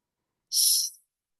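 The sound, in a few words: child imitating the hissing sound of the letter S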